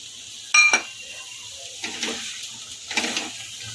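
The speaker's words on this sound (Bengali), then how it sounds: "এবার একটু জল দিয়ে দেবো" Water goes into a pan of potol posto with a sharp metallic clink, then brief soft splashing and sizzling bursts, close and moderately loud.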